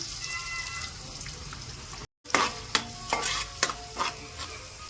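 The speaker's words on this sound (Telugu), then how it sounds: "నేను జీలకర్ర వేపుకుంటున్నా." Cumin seeds roast in hot oil with a steady sizzle, broken by a short silent gap and several sharp stirring clatters of a spoon against the pan; no one speaks.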